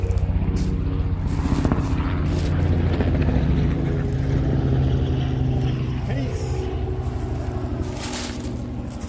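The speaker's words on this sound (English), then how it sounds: "Here comes another helicopter." A helicopter approaches and flies overhead along a dirt trail, its low engine drone and rotor thrum rising and holding steady, while someone talks over it.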